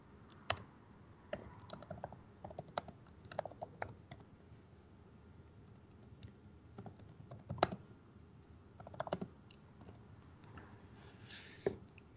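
Quiet typing on a computer keyboard, scattered key clicks in irregular short bursts with pauses, heard close and alone.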